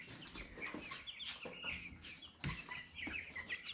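A brooder full of baby chicks on wood shavings peeps and chirps nonstop, dozens of high, bright cheeps overlapping at close range in a busy, steady chatter with no voices present.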